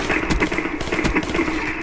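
Gun firing in the Black Ops 3 video game, a close rapid burst of repeated shots with a thudding rhythm, loud and continuous.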